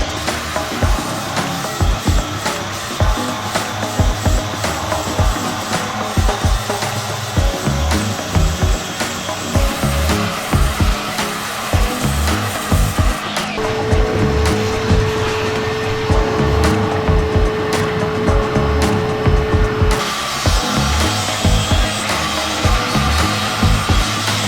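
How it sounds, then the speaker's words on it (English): Angle grinder cutting and grinding inside the engine bay of a sailboat with a failed Perkins 4.108 engine, loud harsh bursts and stops in an uneven rhythm, with one steady whining pass partway through, close by and no talk. "Get to town with a grinder."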